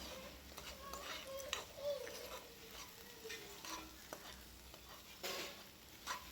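Eggs frying in a pan while being stirred, soft scraping strokes of a spatula over a quiet background sizzle, close and low in level, with faint clinks now and then.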